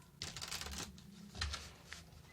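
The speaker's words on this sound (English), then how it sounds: "Another shuffle, they say." Tarot cards being shuffled by hand in a quiet room, a brief riffling and soft sliding patter lasting a couple of seconds, close and fairly faint with no talking.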